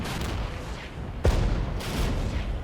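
Artillery fire in the Regiments video game: a sharp, heavy blast lands about midway, followed by a second softer boom, over a constant low battlefield rumble with no voices.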